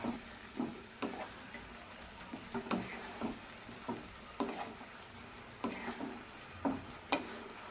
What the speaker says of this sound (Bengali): ভেজে রাখা চিকেনটা আমি দিয়ে দিলাম, দিয়ে আমি নাড়াচাড়া করে নিচ্ছি।